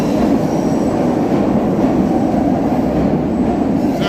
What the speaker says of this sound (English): red line subway underneath us